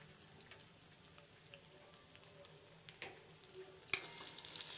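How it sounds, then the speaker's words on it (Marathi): Onion, chilli and garlic frying in hot oil in a kadai over a gas flame, a soft, faint, steady sizzle with light scraping and one sharp clink near the end. "त्याच्यामध्ये आपण आता कांदा, मिरची आणि लसूण टाकून"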